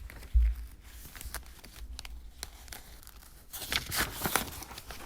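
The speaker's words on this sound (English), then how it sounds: "Page turn." Paper pages handled and turned during a stage play reading, with soft rustles, a sharp thump near the start and a louder crinkling flurry toward the end.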